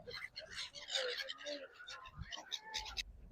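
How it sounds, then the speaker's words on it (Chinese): Crowds of seagulls at a seaside spot where people are feeding them give a dense flurry of high, overlapping cries, fairly distant and soft, with faint voices of people in the background. "一瞅这小海鸥是真多呀，密麻麻的，那边都密密麻麻"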